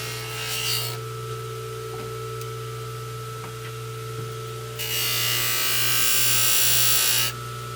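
A polishing machine buffs a 2026 stainless Colt Python revolver, with a steady motor whine under bursts of loud, bright, hissing friction as the metal meets the wheel.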